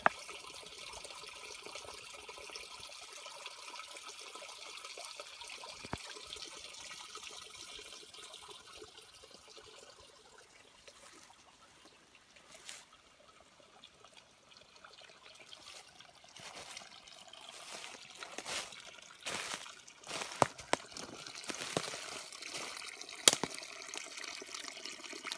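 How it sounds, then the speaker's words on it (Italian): Small mountain springs trickle into the Rio Chiaro stream near Colle Lungo, a soft continuous outdoor trickle and dribble with a few brief louder splashes and no talk. "tante piccole sorgenti che si tuffano dentro Rio Chiaro."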